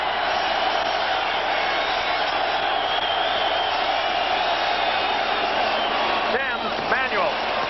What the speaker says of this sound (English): you're close to the crowd, and they'll hear this crowd